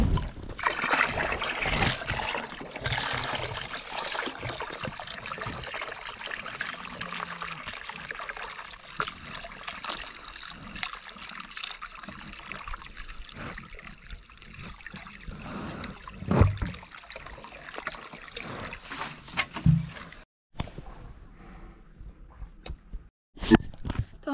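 Water trickling and pouring from a container for a thirsty animal to drink, a soft continuous splashing that runs through most of the clip, then stops, with a few louder knocks and clunks near the end.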